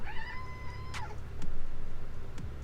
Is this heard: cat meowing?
yes